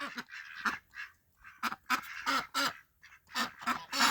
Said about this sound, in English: Will you leave the ducks alone, Goofy?